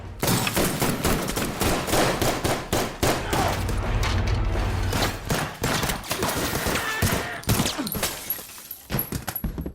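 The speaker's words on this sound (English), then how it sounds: "A violent shootout erupted." Violent film shootout with dense, rapid gunfire throughout, many sharp overlapping shots in loud bursts, slightly thinning toward the end.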